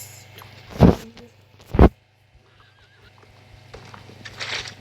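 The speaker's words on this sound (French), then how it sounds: "C'est pas un cheval, une mule." Two loud, close neighing bursts from a mule in a video game, about a second apart, followed by quieter hoof and movement noises and a faint rising whinny near the end.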